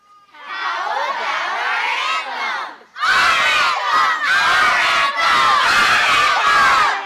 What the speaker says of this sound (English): You're all screaming like a bunch of wild banshees.